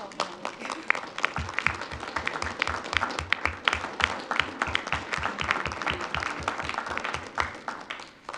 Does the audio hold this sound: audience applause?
yes